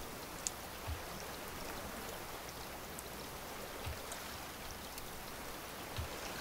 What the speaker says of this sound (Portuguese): a tempestade não passa, galera